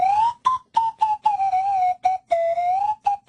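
A toy whistle horn blown in a series of short toots and longer held notes, a bright, loud, close tone that wavers slightly in pitch, with brief silences between blasts.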